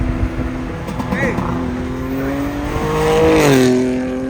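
BMW G80 M3 engine revving hard toward redline, a rising, climbing engine whine that swells louder in the latter half, heard close with people talking over it.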